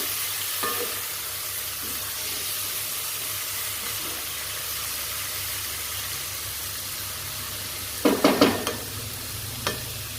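Mushrooms and ginger garlic paste sautéing in a pan give a steady low sizzle, broken near the end by a few quick scraping stirs close by.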